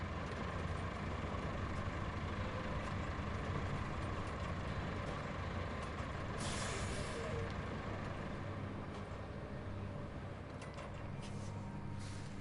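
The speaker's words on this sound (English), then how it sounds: "One of those trucks is really noisy." A constant low engine rumble and drone of a heavy truck idling or driving in the video game Deluge, steady and fairly faint with a brief hiss midway.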